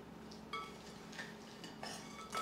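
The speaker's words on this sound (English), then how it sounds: "We stir it." Broccoli salad with cranberries and mayonnaise stirred in a bowl: a few faint, soft scrapes and clinks of a utensil against the dish, quiet and close.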